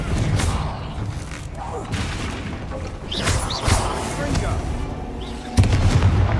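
Repeated Confringo blasting-spell explosions in Hogwarts Legacy, heavy booming bursts and crashes layered over continuous battle noise, with a voice calling out spell names throughout.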